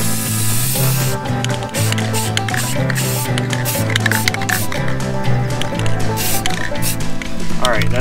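Brown paint hisses from a spray can onto Honda CB500 cafe racer fenders, bursts of close spraying layered under steady background music throughout.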